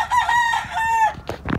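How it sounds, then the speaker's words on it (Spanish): A fine-beaked, spurred fighting rooster of Jiro breed gives one long, loud, close crow with harmonic, wavering calls, followed by a couple of short clucking sounds. "Qué belleza de gallo, mi gente."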